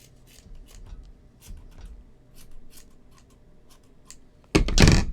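Scissors trimming long yarn strands off a crocheted pom-pom for a snowman ornament, a series of soft close snips at an uneven pace, ending in a louder rustle.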